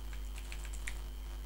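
A computer keyboard is typed on in a short burst of quick, light key clicks, six or seven taps close together over a steady low electrical hum.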